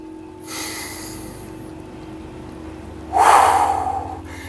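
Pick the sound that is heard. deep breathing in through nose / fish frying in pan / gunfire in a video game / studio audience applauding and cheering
deep breathing in through nose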